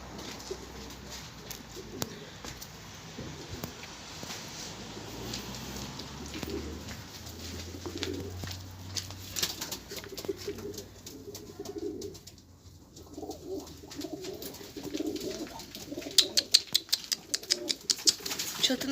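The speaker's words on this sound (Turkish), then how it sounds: "Kuşlarımızı da saldım çatıya." Soft, low pigeon cooing repeats in the background over a steady outdoor hum on a rooftop, with scattered clicks and light fluttering near the end.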